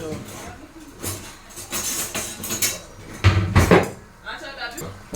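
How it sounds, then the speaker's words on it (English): Stockfish, goat meat and Kpanla fish being stirred together in a pot for Nigerian ogbono soup, with clinks and scrapes of a spoon against the pot, steady and close, with a louder clatter near the middle and talk around it. "So this is it getting mixed so that they can marry themselves."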